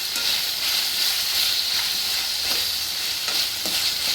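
Capsicum and chillies sizzling and frying in hot oil for restaurant-style gobi manchurian, a steady close-up hiss with faint stirring taps throughout.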